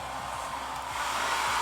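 A hair dryer running on its low setting gives a steady, continuous airy whoosh with a low motor hum, close and even in level throughout, with no talking.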